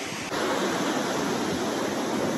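Strong ocean waves roar at Nai Harn beach in Phuket, a dense, loud, continuous surf wash with no voices.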